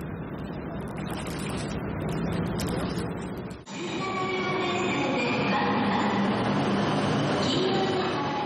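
A train runs through the night on a long journey from Sapporo across the sea to mainland Japan, its steady rail rumble and wheel noise continuous throughout, with a brief dip partway as if passing a gap or tunnel.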